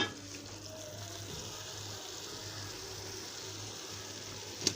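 Spices frying in ghee, stirred with a spoon, giving a faint steady sizzle over low background hum, with a soft clink of the spoon near the end.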